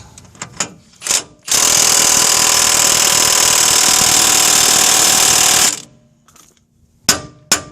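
An air impact wrench hammers hard for about four seconds straight, working a ball joint loose on a 2003-2009 Dodge 2500/3500 4x4 truck and fed by a small air compressor, with brief bursts before and after.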